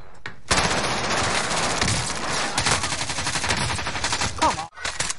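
Dense, loud automatic gunfire from a light machine gun and other weapons in Call of Duty Warzone, sustained rapid bursts overlapping almost continuously for several seconds before cutting off abruptly near the end.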